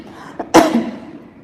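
One close, sharp cough sounds after a faint catch of breath, with a short trailing rasp fading into quiet room tone.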